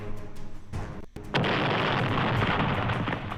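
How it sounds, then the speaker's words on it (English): Explosion sound effects erupt as a sudden, sustained roaring blast that swells after a brief dip and keeps rumbling loudly to the end, following a lower, muffled thump. "Pop, pop, pop, pop, pop, pop, pop, pop! Explosions!"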